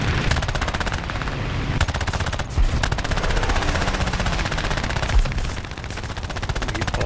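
Aircraft machine guns in War Thunder air arcade combat fire in long, rapid rattling bursts, loud and close, broken by a few short pauses and dull thumps.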